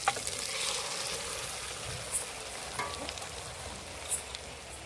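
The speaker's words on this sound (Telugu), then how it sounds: "చికెన్ ఉడకబెట్టకుండా మొత్తం వేసేసుకోవాలి" Raw chicken frying in a pan for a chicken curry served with bagara rice, a steady hiss of sizzling oil with a few faint taps, heard close with no talking.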